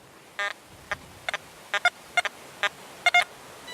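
Short electronic target tones from an XP Deus metal detector with the silencer setting, a series of about ten brief beeps in an irregular rhythm over a quiet hiss, some doubled, with no speech.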